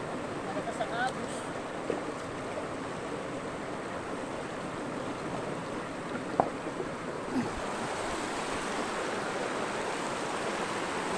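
A strong river current rushes in a steady, dense roar that fills the whole clip, loud and close, with no pauses and only small shifts in texture.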